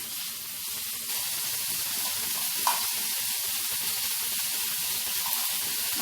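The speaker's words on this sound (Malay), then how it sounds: "tumis hingga pecah minyak" Chili paste and ground black pepper sizzling steadily in hot oil, frying continuously with a brief clatter of stirring partway through, close and fairly loud.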